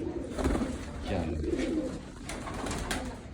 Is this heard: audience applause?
no